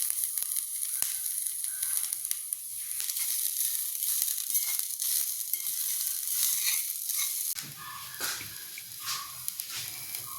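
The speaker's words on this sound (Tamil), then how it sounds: "இதில் போட்டு இந்த கறிவேப்பிலை போட்டுப்போம்" Curry leaves sizzle sharply in hot oil in a pan where coconut, ginger, garlic and onion are being roasted for a fish curry. The hiss is loud and steady, the crackle thickens near the end, and no one speaks.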